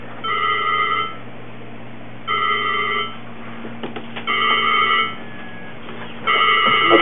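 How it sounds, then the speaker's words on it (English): Cell phones ring in repeated double-tone bursts separated by short pauses, loud and electronic over a steady background hum, with no talking. "so the phones are ringing now"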